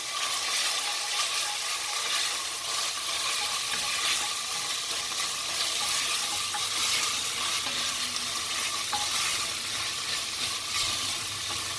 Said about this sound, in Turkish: 1 tatlı kaşığı kadar biber salçası, 1 tatlı kaşığı kadar domates salçası. Tekrar karıştırıyoruz.